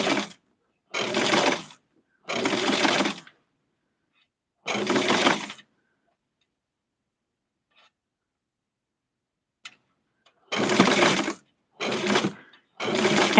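A sewing machine stitches a doll's bathing suit in several short bursts of close, rapid whirring, separated by quiet pauses, with faint small clicks between runs.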